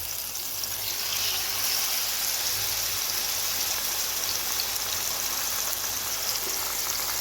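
Chicken breast fries over high heat in a pan with oil and ghee, giving a loud, steady, close sizzle that holds without break.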